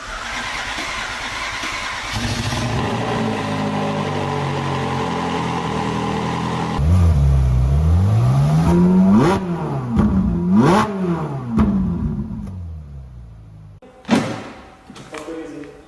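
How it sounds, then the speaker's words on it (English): Ferrari engine revving on a test drive after an overhaul: a steady drone, then rising and falling revs sweeping up and down several times, loud and close, with a sharp burst near the end. "After everything is placed back together, it's taken outside for a test drive."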